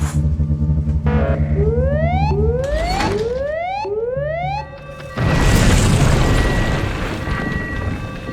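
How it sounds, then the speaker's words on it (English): A floor collapses in the video game We Happy Few, heard as loud rumbling and creaking game sound with rising mechanical sweeps, followed by a heavy crash and a noisy debris wash that fades out. "The whole floor's collapsed."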